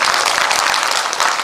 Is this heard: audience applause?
yes